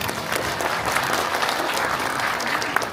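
Loud, steady applause from an audience at a county governor's New Year visit to Jeongsan township in Cheongyang, continuous dense clapping throughout with no break.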